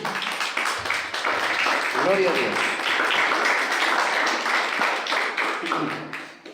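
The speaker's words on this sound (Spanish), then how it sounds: "Denle un aplauso al Señor, mi hermano." Congregation in a church applauding continuously in a dense, sustained wash of clapping, with a voice speaking briefly over it partway through.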